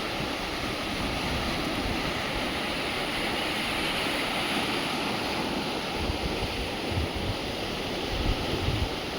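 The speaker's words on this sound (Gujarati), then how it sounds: "ધોધ માર જાય હો પાણી" Canal water from the gates of the Dholidhaja dam in Surendranagar rushing in a loud, continuous broadband roar, steady throughout like a waterfall, with no voices.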